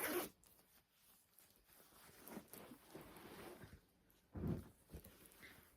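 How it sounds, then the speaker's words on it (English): Zipper on a leather purse pulled in two quick, close zips, a short one at the start and another near the end, with soft handling rustle between. "It does have a hidden zipper. That zipper under there."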